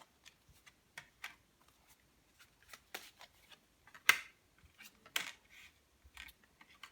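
Tarot cards are shuffled by hand for a reading, a string of soft, close riffling and snapping clicks, quiet and irregular, with a couple of sharper slaps and no talking.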